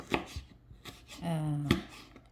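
A kitchen knife cuts peeled ginger into strips on a board, giving a handful of sharp, close chops spaced irregularly with brief quiet gaps between them.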